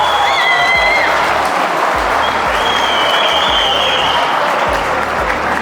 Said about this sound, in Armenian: հզոր ծափեր տվեք